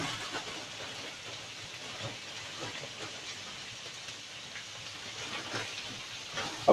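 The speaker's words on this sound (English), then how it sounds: "Leave them to stir fry a second." Vegetables for a takeaway-style chicken chop suey stir frying in a pan on a home cooker, a continuous rushing hiss with faint crackle, steady and unbroken, no one speaking.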